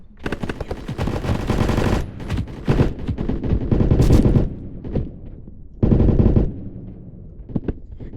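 Rapid automatic gunfire from the video game Blackhawk Rescue Mission 5 rattles in loud sustained bursts with short pauses between them, close and dominant, no talk.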